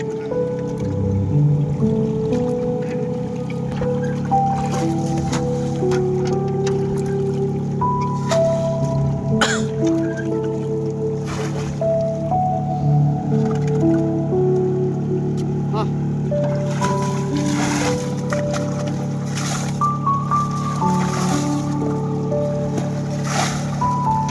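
Water bailed out of a small boat splashes and sloshes repeatedly at close range, with steady churning water noise throughout and scattered knocks and splashes.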